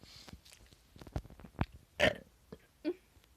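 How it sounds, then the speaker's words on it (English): A burp contest, with several short gurgling burps and belch-like throat noises in irregular bursts, one louder burp near the middle, close and fairly quiet. "Let's burp."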